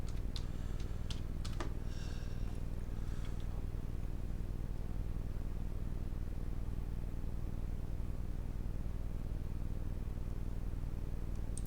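Computer keyboard typing, a short burst of keystroke clicks in the first two to three seconds over a steady low background hum, then only the hum continues.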